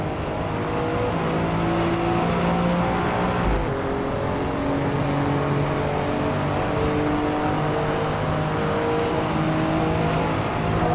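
An Alfa Romeo's engine drones steadily in the racing game Assetto Corsa EVO, a loud, continuous tone rising and falling through gear changes, heard alone with no voices.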